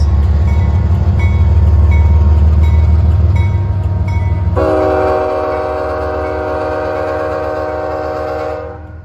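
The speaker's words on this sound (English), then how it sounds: "there was one train" A train rumbles past with a loud, sustained horn blast starting midway and holding for several seconds before fading, no voices.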